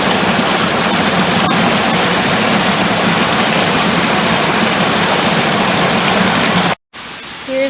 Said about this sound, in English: Here's another torrent.